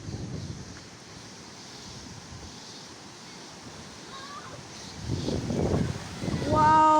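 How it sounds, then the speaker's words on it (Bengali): Gusty storm wind sweeps through a village yard where people gather fallen mangoes, giving a steady broadband roar with stronger gusts near the end, and a voice is faintly present. "অনেক বাতাস হচ্ছে"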